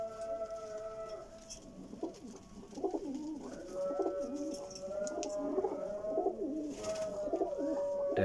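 Pigeons in a breeding setup, including Teddy, Golden, Frozpori and Dabwaly breeds, cooing repeatedly in layered, overlapping calls from several birds close by, with no talk.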